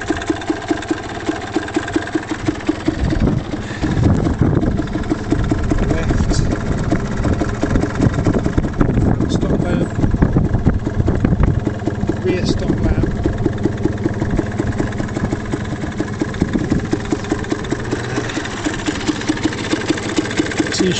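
A Yamaha DT125R two-stroke motorcycle idles nearby with a loud, steady, slightly uneven puttering that holds for the whole stretch, with someone talking over it at times.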